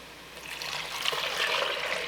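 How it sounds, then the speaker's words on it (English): About seven cups of water pour steadily into a cooking pot, a continuous rushing splash that swells slightly over two seconds, close and fairly loud with no talking. "Now we're gonna add in about 7 cups of water."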